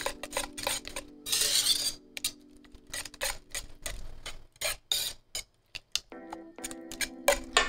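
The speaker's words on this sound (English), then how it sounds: "And then we mix well." Banana chocolate cake batter with a little vanilla essence being mixed in a bowl, giving repeated clinking and scraping taps of a utensil against the dish in an uneven rhythm, close and fairly quiet.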